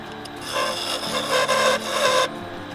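A wooden bowl being back-hollowed to remove a small crack, with a steady, close rasping scrape of a tool against spinning wood that runs for about two seconds, then stops abruptly.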